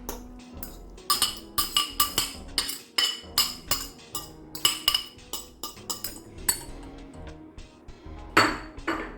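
Chopped saltfish (codfish) and other fritter ingredients being mixed in a bowl, with a utensil repeatedly clinking and scraping against the dish in a steady, close rhythm of sharp taps, no talking.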